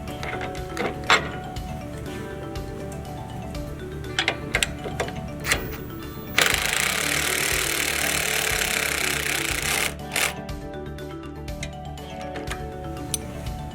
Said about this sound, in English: put an Allen wrench on an impact gun and reverse it so it pulls itself through